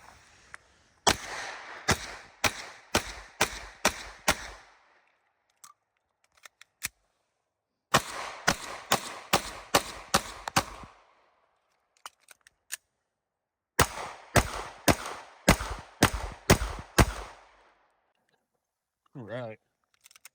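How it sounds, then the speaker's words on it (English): Shots from a stock 2019 Staccato P pistol with full-length dust cover and mounted light, fired in three quick strings of about six to eight sharp, loud cracks each, separated by short pauses, with a few stray clicks. "We'll go ahead and get our first shots going"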